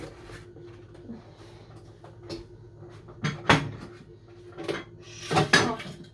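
Dishes and pots being washed clink and clatter irregularly, with scattered knocks of pots and crockery over a low hum, fairly close but not loud.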